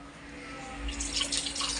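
Water splashes into a cooking pot holding pork, a steady faint pour with a brighter, louder stream toward the end, no voices.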